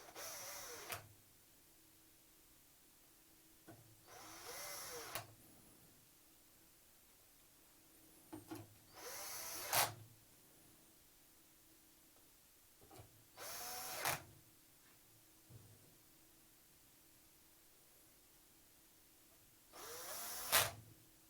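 A power tool drives the four screws into the front cover of a repair unit in several short whirring bursts separated by quiet pauses, close and fairly loud, with small clicks between runs.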